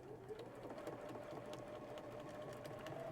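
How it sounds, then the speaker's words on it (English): A sewing machine stitches a zipper onto a heart-shaped zipper pouch with a quarter-inch seam, a soft, steady, rapid mechanical whirr heard faintly and alone. "So we're using 1/4 of an inch here just to sew that zipper all the way down."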